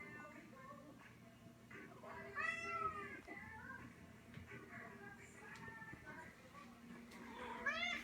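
A cat meows close by several times, drawn-out rising and falling cries spread across the moment, with a person speaking softly in between.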